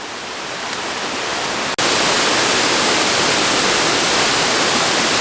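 Huai Kaeo waterfall in Chiang Rai, a three-tiered cascade, roaring as a dense, loud, unbroken rush of falling water that swells abruptly after a brief drop and holds steady, with no voices.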